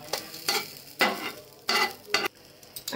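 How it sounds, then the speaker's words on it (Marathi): Vegetables are pressed down and roasted in a hot pan, giving short bursts of sizzling as they are pushed repeatedly, about five or six rhythmic scraping presses close by. "दाबून दाबून शेकायचं छान, म्हणजे त्या भाज्या पण शिजल्या जातात छान"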